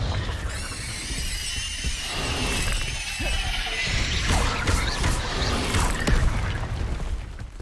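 A Confringo fire spell explodes in the video game Hogwarts Legacy, a loud crashing, shattering blast with whooshing and squealing effects layered over game sounds, lasting several seconds.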